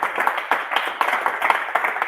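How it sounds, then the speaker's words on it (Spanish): Audience applause at a Río Cuarto history and memory workshop, a steady patter of clapping from a small crowd lasting about two seconds, fairly close and moderately loud with no talk over it. "Aplausos."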